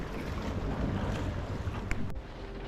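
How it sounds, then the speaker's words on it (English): Strong wind rushing past a solo sailboat in the Bay of Biscay, a loud broadband roar with gusts buffeting the microphone, water noise beneath, and a brief drop near the end. "the wind continued to build into a spirited 4-6"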